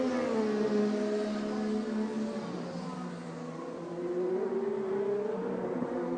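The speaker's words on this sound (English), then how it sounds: "you can hear it when it comes by the booth. That is not a good sounding engine." Chevrolet IndyCar engine in a 2012 race at Mid-Ohio, sounding rough and unhealthy as the car passes the commentary booth: a loud, sustained harmonic drone that dips in pitch and rises again, with no talk.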